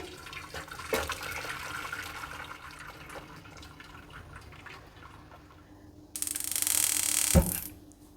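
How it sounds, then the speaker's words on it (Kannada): Cooking water from boiled ridge gourd and lentils being drained off, a soft trickling and dripping that swells into a louder, fuller gush of pouring liquid near the end, close by with no voices. "ಈಗ ಬೇಯಿಸಿ ಇಟ್ಕೊಂಡಿರೋ ಹೀರೆಕಾಯಿ ಬೇಳೆ ಇದನ್ನು ಸೋರಿಸ್ಕೊಳ್ತಾ ಇದ್ದೀನಿ"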